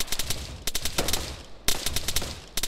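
Rapid bursts of automatic gunfire aimed at an enemy vehicle in a mechanised military video game, loud and close, several strings of shots with short pauses between.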